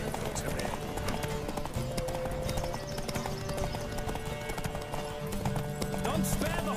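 Rapid clip-clop of a horse galloping in a race in the video game The Witcher 3, continuous hoofbeats under game music and background noise, with voices shouting and a horse neighing.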